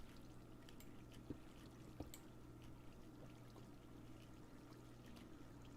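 Low, steady trickle of flowing water in a blocky survival game near obsidian, a soft continuous wash with a faint hum underneath and a couple of small clicks, no talking.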